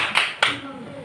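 Two sharp hand claps ring out in a classroom during a science lesson, spaced about a quarter second apart, each decaying quickly into a quiet room.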